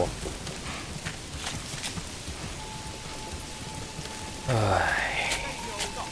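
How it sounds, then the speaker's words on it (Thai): Steady rain patter in the medieval city-building game Manor Lords, a constant wash of drops throughout with a faint tone and a louder thud near the end. "ข้าต้องหลบร่มแล้วนะฝนมัน ทำข้าเปียก"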